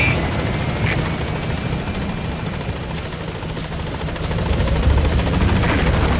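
A helicopter arrives at a landing zone in Metal Gear Solid V, its loud, continuous rotor roar and pulsing blade chop filling the scene and swelling slightly louder toward the end.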